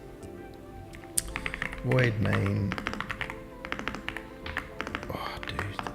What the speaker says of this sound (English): Oh, dude, the typing